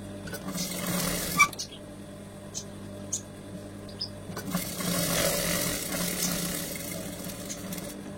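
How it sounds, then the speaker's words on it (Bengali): A sewing machine stitches the legs of a child's pajama, giving a steady mechanical whirr and needle chatter up close, with a few clicks and pauses between runs. "তো এরকম করে দোনোটা পা সেলাই করে নিতে হবে।"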